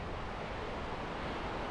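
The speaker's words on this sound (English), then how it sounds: "the camera is not doing the sound of the water to my right" Ocean waves wash steadily beside a person standing outdoors, a continuous broadband rush of surf with no breaks and no one speaking.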